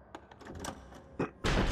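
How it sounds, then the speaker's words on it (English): Unlocked door opening in Resident Evil HD Remaster: a few faint clicks and thumps, then a loud broadband whoosh-and-thud at the end, alone with no voices. "Let's just go in this new door that we've unlocked."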